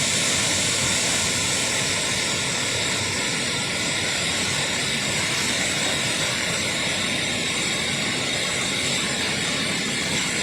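A strong river current at Magsaysay, Atimonan rushes in a dense, loud, continuous roar that stays steady and close throughout, with no voices.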